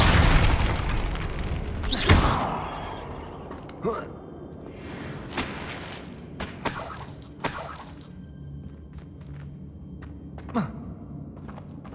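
Depulso knockback spell impacts in Hogwarts Legacy, a heavy boom at the start followed by several sharper whooshing hits and thuds over a busy game soundscape.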